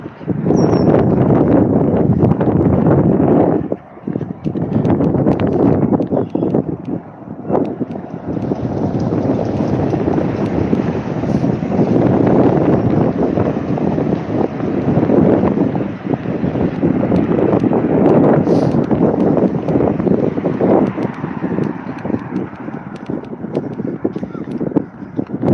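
Strong wind buffets the microphone outdoors at a Toronto street intersection, a loud continuous rumbling roar with gusty surges throughout and no clear speech.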